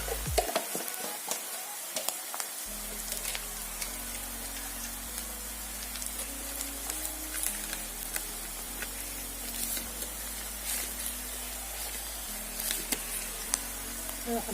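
Onion, ginger and garlic frying in oil with turmeric crackle and spit continuously, a fairly soft close sizzle with scattered pops over a low background hum.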